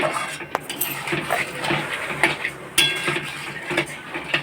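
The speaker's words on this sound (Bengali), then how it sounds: "আর চিনিটা দিয়ে আমি ভালো করে নেড়ে চেড়ে নিচ্ছি" A spoon stirring mango kasundi with sugar in a pan: irregular metallic clinks and scrapes against the pan, fairly close, with a soft background hiss.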